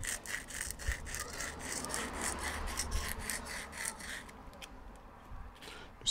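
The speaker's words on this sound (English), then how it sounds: "So now I'm just going to take some sandpaper. I'm just going to clean that up around that edge there." Sandpaper rubbing along the edge of a ring made from a 1 oz US Gold Eagle coin, a steady close scratchy rasp of repeated strokes that continues for several seconds before easing slightly near the end.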